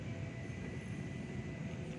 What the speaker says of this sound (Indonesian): Ini ada kereta api Mutiara Selatan masuk